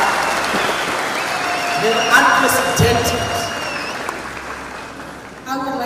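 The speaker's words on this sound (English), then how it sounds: "I think that deserves a huge round of applause." An audience at a football cup launch ceremony applauds in a broad, steady wash that slowly fades, while someone speaks over it through a microphone.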